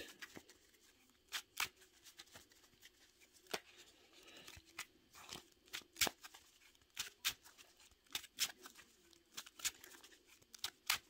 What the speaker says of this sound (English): A couple more shuffles for luck.